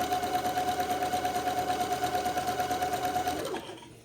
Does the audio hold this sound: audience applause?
no